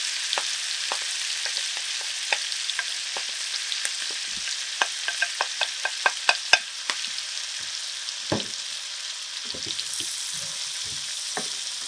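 Shallots sauté in bacon grease with a steady, close hiss. Scattered sharp clicks of stirring punctuate the sizzle throughout, and no one speaks.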